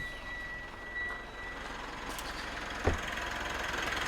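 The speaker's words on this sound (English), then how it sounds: "So let's go and start up the vehicle." Mitsubishi Triton ute with a dual battery setup, its engine running as a steady close idle with a faint tonal whine, and a brief knock partway through.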